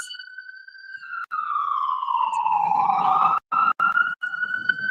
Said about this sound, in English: Ambulance passing. Y'all hear the ambulance?